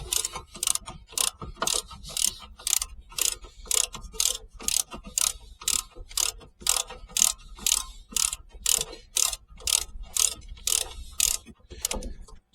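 A socket ratchet undoes the brake nuts on a Volvo V70 D5, a close, loud train of rapid clicking bursts repeating in steady rhythm for many strokes, with no talking.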